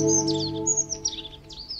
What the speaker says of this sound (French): le chant mélodieux des mâles résonne dans les airs pour séduire les femelles